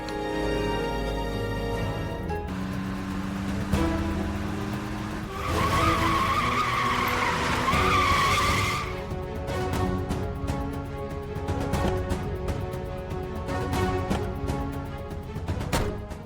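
A car's tires squeal in a loud, sustained skid lasting a few seconds as the car stops with engine trouble, set against steady background noise.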